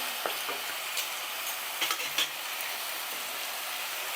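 Spice masala with cumin powder fries gently in oil, a soft steady sizzle with a few light scraping stirs and taps of a spatula against the pan, close and unaccompanied by talk.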